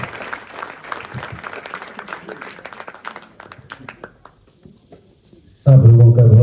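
An audience at a stage drama claps for the play's writer and director, steady applause thinning to scattered claps before a loud voice abruptly speaks over a microphone near the end.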